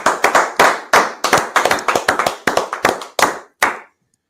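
A small group of people clap their hands in a loose, uneven rhythm, close and fairly loud, with a couple of bursts of quick claps before the clapping stops abruptly near the end.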